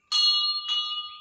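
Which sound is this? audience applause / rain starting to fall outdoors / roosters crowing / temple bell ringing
temple bell ringing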